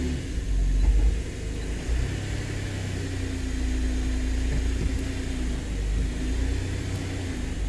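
A 2008 Nissan Pathfinder 4.0L 4x4, with many dash warning lights and fault codes, idles after start-up and is shifted into gear. It gives a steady, close, low engine rumble with a mild swell near the start and no speech.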